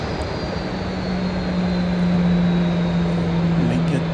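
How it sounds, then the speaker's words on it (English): A Southwest Airlines Boeing 737-700 passes below at Dallas Love Field, its jet engines giving a loud, steady roar with a droning hum that swells slightly as it goes by. "Underneath us, we've got a 737-700 Southwest Airlines."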